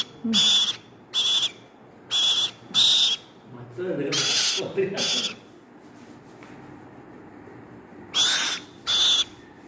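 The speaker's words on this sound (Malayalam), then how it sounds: "ഒരു കിളിയിരുന്ന് വിളിക്കുന്നു" A bird calls from inside an enclosure in a repeated series of clear, loud whistled hoots, grouped in pairs and runs with short pauses, while a person talks faintly in the middle.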